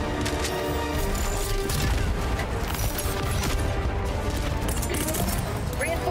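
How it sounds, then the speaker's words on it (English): Dense, continuous gunfire and explosions from a Helldivers 2 firefight roar without pause, loud and layered, with booms and crashes blending into a constant wall of combat noise. "The gunshots and the explosions?"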